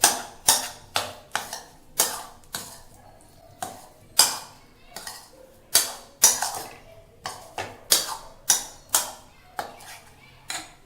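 Paneer roll ingredients stirred together with oil in a bowl, a sharp series of clinks and taps from a utensil striking the dish in an uneven rhythm, close and fairly loud, with brief gaps between strokes.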